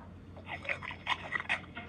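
A puppy in a video game giving a quick run of high, thin whimpers and whines, several short cries close together over about two seconds.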